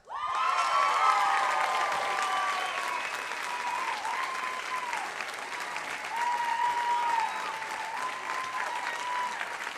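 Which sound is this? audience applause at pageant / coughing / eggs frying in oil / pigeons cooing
audience applause at pageant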